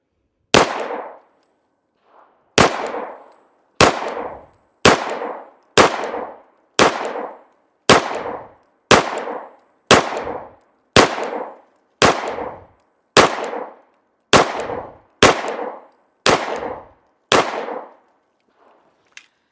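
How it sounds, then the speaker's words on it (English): Tisas 1911 Carry B9R pistol firing MagTech steel-case rounds, about fifteen loud sharp shots fired slowly at a steady pace, each with a short ringing decay and silence in between. "We'll see how we do, kind of just shooting slow and accuracy and seeing how the gun functions"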